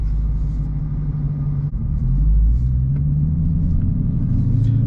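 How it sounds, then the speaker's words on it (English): The V8 of a 2022 Dodge Challenger Scat Pack Widebody with a manual transmission rumbles loudly with deep, throaty power, building as the car accelerates, with no voices over it. "I just love the way that V8 sounds. It's a good sounding V8."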